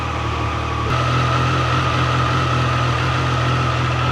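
Two Triumph Tiger 800 Sport motorcycle engines idle together, a steady loud low drone that swells slightly as the second bike starts, with no voices.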